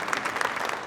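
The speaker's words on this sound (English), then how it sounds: "We can hold the applause to the end so I get through" An audience at a college hall of fame induction ceremony claps in a short, dense burst of applause, steady and fairly close, with no clear speech over it.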